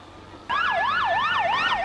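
Ambulance siren in Madrid after a commuter train bombing, a wailing tone sweeping up and down that starts abruptly and continues steadily, moderately loud and somewhat distant.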